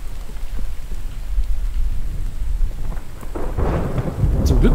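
Thunderstorm with rain in the survival video game The Infected, a low rumbling of thunder rolling under a steady wash of rainfall, swelling louder near the end, with no talking.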